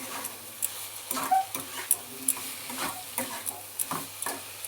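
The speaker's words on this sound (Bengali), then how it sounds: "এবার আমি সব একসঙ্গে পেঁয়াজ আদা রসুনের সঙ্গে সোয়াবিনগুলোকেও নাড়াচাড়া করে নিচ্ছি" Soybean mince is stirred with onion, ginger and garlic in a pan: quiet, irregular scraping and tapping of a spoon over a soft background sizzle.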